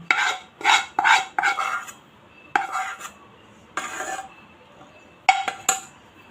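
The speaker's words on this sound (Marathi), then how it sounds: "आता आपण याला चमच्याने मिक्स करून घेऊया" A metal spoon stirs jaggery into hot ghee in a pan, scraping and clinking against the sides in irregular strokes with short gaps, close and fairly loud, no talk.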